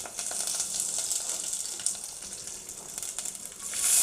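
Dried red chillies and curry leaves sizzle in hot oil while tempering for a ridge gourd masiyal: a dense, steady close hiss that swells a little louder in the final half second.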